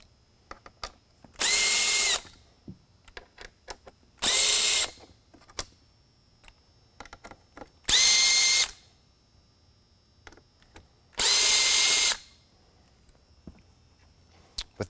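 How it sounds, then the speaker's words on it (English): A power drill whirs in four short bursts of about a second each, removing screws from a Code 3 Frontier mini bar light's aluminum assembly, with quiet clicks and handling noises in the pauses between. "I'm gonna go ahead, remove a few more screws here to free up the aluminum assembly here."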